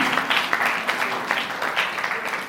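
Audience clapping at a school prize-giving during a community festival program, a fairly steady patter of hands with individual claps standing out, moderately loud and uninterrupted by talk.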